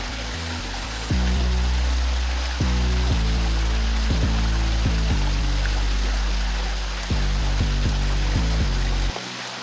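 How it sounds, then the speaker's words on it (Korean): Water pours steadily at a waterfall-like spot in icy winter countryside. The rush is broadband and constant, with repeated low knocks and thumps recurring through it at close range. "정확히 알 수는 없지만 폭포처럼 보이는 곳이 있네요"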